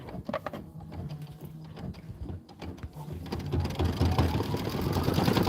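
An embroidery machine stitching a satin outline runs with a rapid, steady mechanical chatter of needle strokes, close and continuous, growing slightly louder and denser toward the end, with no talk over it.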